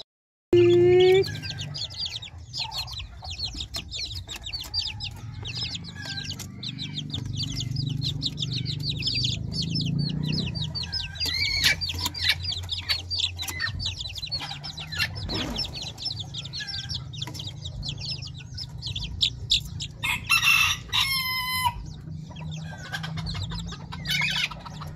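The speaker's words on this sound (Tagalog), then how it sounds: "Bantam na to guys" Small bantam chickens, about two weeks old, clucking and calling repeatedly in a simple backyard coop, with bright chirps and one crow-like call over a low steady rural background hum.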